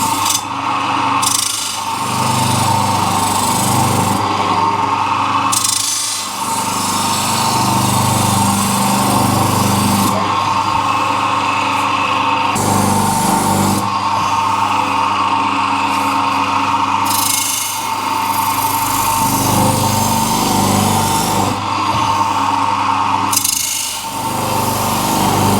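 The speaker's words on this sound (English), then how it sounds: "let's just give it a bit of a mop on the wheel" A buffing mop wheel polishes the edges of a part from a Suzuki GS Custom motorcycle, giving a steady loud whirring, rubbing drone that swells and dips as the part is pressed against the spinning wheel, with no talk.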